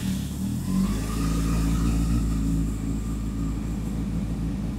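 A Honda Hornet 600 motorcycle engine runs steadily at moderate level, with a low harmonic drone that shifts slightly in pitch as the revs change.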